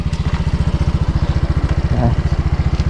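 A Yamaha Mio motorcycle engine idles close by with a steady, rapid low chugging pulse that holds even throughout, with a brief bit of background noise near the middle.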